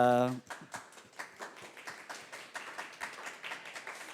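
A brief tonal note opens, then rhythmic, steady hand clapping from a worship congregation follows, evenly paced and moderately loud, like a group clapping in time.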